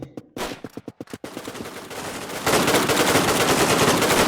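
Rapid gunfire in the shooter game Redmatch 2, shot through a wall: a quick string of separate cracking shots, then a denser, sustained roar of fire to the end, loud and close.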